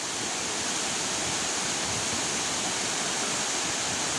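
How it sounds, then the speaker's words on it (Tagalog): Hinulugang Taktak waterfall roaring in a steady, dense wash of falling water, loud and close, with no break across the whole stretch. "Yan ang Hinulugan Taktak na sinasabi nilang falls."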